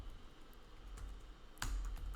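Keyboard typing during Python coding, a few soft quiet keystrokes followed by a louder cluster of clacks near the end, no talking.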